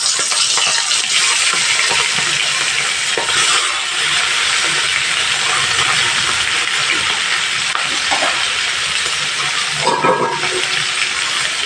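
Prawns dropped into hot oil, a loud continuous frying hiss and crackle with a few brief splashy bursts, close and steady throughout with no talk.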